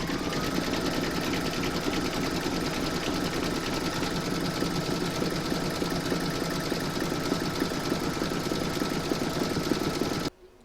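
An embroidery machine stitches the detail of a dog kennel on a coaster in a fast, steady rhythmic whir that runs evenly for about ten seconds and then stops abruptly.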